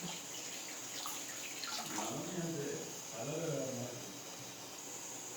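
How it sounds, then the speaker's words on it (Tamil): Water pours steadily into a container, with gurgling surges as the level rises, fairly quiet and close. "ஒரு கிளாஸ் தண்ணி ஊற்றிக்கலாம்"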